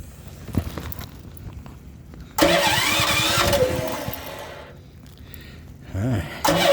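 A Predator generator running on propane cranks with a rough whir, catches, and settles into a steady running drone, followed later by another short cranking burst; some handling noise is heard earlier.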